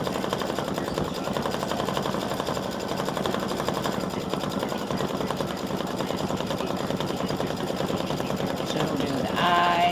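An embroidery sewing machine stitches a face with black thread, a steady fast mechanical chatter running continuously at moderate volume throughout.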